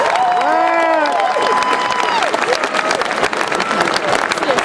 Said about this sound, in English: Let's give her a rousing round of applause.